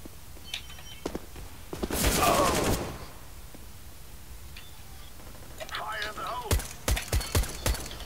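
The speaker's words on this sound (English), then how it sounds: "You're shooting at a fence." Bursts of gunfire in CS:GO, a short rapid volley early on, then a string of separate sharp shots near the end, with players talking over the game between them.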